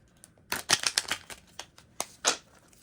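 Flexible Masks & Machetes playing cards are shuffled in short bursts of crisp riffling flutters and snaps, close and fairly quiet, with a final longer riffle.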